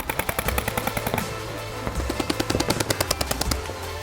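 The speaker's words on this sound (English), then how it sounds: "you run across shooting on your left hand at the target" Paintball guns firing in rapid bursts during a shooting drill, sharp popping shots in quick rhythmic strings, loud and close, with a short pause midway before another fast volley.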